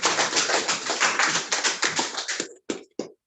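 Audience at a real estate conference claps steadily in dense overlapping applause for about two and a half seconds, then it breaks into a few scattered final claps before going quiet.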